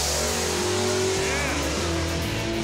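A drag race car launches down the strip with some wheelspin, its engine a loud, continuous roar that holds steady through the whole moment.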